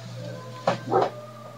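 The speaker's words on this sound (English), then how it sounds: "That's our dog." Two quick barks from a dog, fairly faint and somewhat distant, over a low steady hum.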